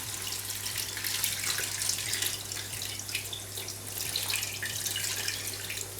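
Hot broth mixed with cuttlefish ink is poured into rice for octopus in ink, giving a steady rushing splash and trickle, close and fairly loud, with a faint low hum under it and no talking.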